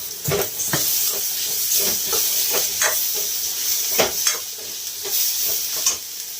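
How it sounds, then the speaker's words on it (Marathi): Tomato with red chilli powder frying in oil over a low gas flame, with a steady close sizzle and repeated sharp scrapes and taps of a spoon stirring the pan. "टोमॅटो आपल्याला तेल सुटेपर्यंत भाजून द्यायचा आहे"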